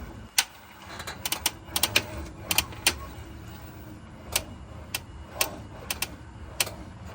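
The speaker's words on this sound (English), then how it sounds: "when you turn the steering wheel, it's making some clicking noise from here" Sharp clicks from the steering rack of a Tesla Model S with inner and outer tie rods as the steering wheel turns, coming in irregular clusters over a low background hum.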